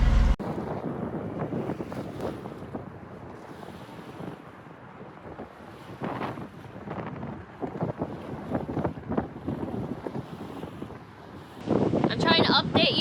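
Gusty wind buffeting the microphone aboard a sailboat heading toward New York, a continuous rushing roar that swells and eases, with faint water and boat noise underneath.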